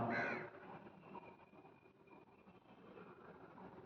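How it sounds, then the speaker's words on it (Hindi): Crows cawing outdoors, one loud burst of calls right at the start, then fading into a faint, steady background hum with distant bird sounds. "पक्षी भी बोल रहे हैं बाहर।"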